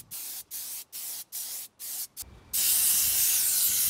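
Spray can applying creature cast coating onto a foam muscle suit, several short rhythmic bursts of hiss followed by one long continuous spray, close and fairly loud.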